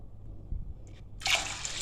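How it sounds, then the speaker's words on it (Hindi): Water is poured from above into a pot of chickpeas, a short splashing gush that starts abruptly after faint drips and low kitchen rumble. "और अब हम इसमें डालेंगे पानी।"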